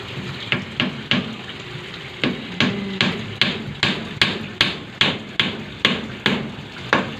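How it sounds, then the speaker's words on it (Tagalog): Repeated hammer blows from someone doing smithing work nearby, a steady series of sharp metallic strikes at roughly half-second intervals, fairly loud and close, with faint background noise and no talking. "Maingay kasi nagpanday-panday man siya dito"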